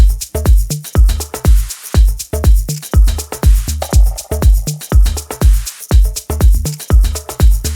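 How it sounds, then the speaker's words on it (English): A loud, driving Afro house beat with punchy kicks and a short hiss of white noise landing on every fourth beat like an open hi-hat. "on every fourth beat, we're playing a little white noise"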